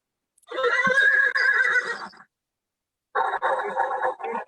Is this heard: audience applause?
no